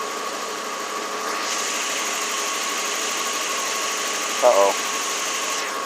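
A 1992 Lexus LS400 engine idles steadily at close range, a smooth continuous hum with a stable pitch throughout, and a person briefly speaks near the end.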